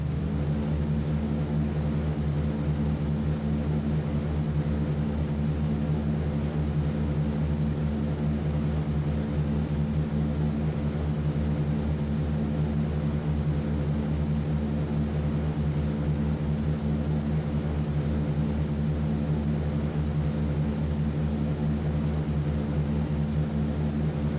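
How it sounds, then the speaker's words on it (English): B-17 Flying Fortress bomber engines in a flight game: a steady, droning multi-engine propeller hum, constant and even throughout, without voices. "aircraft up and away and heading across the channel. Are cleared for takeoff."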